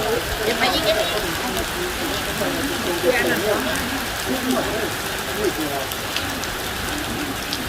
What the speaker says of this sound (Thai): จุดแล้วฝนตกใส่ทูบด้วยนะคะ